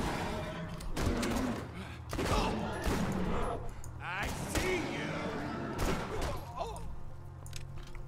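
Gunfire in Borderlands 2 aimed at bullymongs: repeated loud shots and thuds in irregular bursts over a steady game backdrop, with mechanical clatter between volleys.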